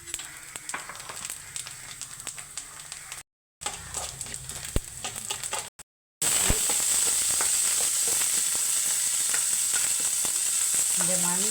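Mustard seeds, rice and chillies sizzle and crackle in hot oil in a pan for a spinach and jackfruit-seed stir-fry, with steady frying hiss and popping that grows louder and denser after a brief gap, no talking.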